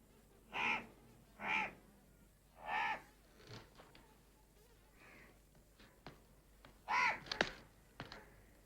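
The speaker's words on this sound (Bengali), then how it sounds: "ওই কাকটা কি বলতে চাই বলো তো?" A crow caws several times in harsh, separate calls, three evenly spaced then a pair later, fairly close over quiet background.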